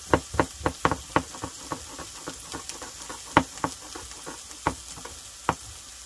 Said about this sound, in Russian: пока лук у нас обжаривается